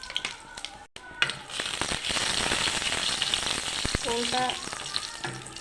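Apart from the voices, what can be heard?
whole cumin and dry red chilies sizzling in hot oil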